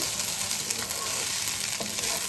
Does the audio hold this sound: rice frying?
yes